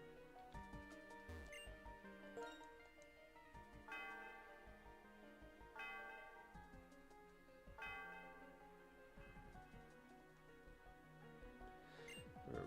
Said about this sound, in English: why don't you ring the bell